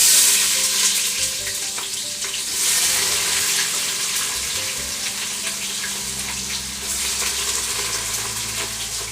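Chopped onion sizzles steadily in hot oil in a single pot for chicken biryani, a loud, even hiss that holds for the whole stretch with small surges and a low background hum.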